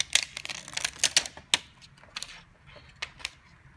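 Thin backlight film being peeled off an LCD display panel, a run of sharp, close crackling ticks and snaps in irregular bursts with short quiet gaps.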